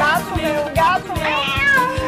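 A cat meows repeatedly in a Brazilian TV news jingle: several loud, close, rhythmic mews over a steady musical backing, with a voice mixed in.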